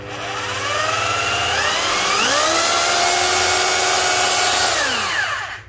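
A 220V three-function rotary hammer drill with speed control and reverse runs alone, its motor whine rising and falling in pitch as the speed is adjusted, steady and close throughout.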